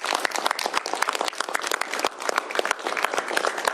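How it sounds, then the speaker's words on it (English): Applause after a governor's bill signing, brisk crisp clapping from a room of people, close and continuous with a dense irregular patter that holds steady throughout. "Round of applause for the hard work"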